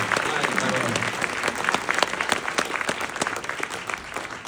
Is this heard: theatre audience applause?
yes